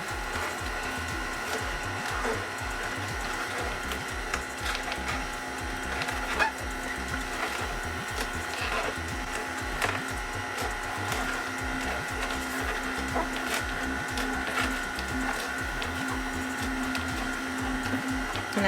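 A Nama J2 juicer processes greens with a steady, grinding mechanical whir and a constant hum, with faint crunching and squeaking over almost twenty seconds, close and continuous.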